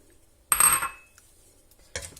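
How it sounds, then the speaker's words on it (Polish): Grated soap pours into a metal pot in two short bursts, a loud rattling clatter followed by a quieter second patter, with silence between. "garnka wsypuję starte mydło."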